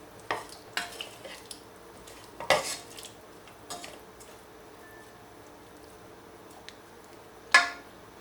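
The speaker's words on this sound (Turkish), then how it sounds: "Şöyle bir karıştırıyorum." Intermittent clinks and scrapes of a utensil stirring meat with red pepper powder in a pot, a few sharper knocks against the side, quiet in between.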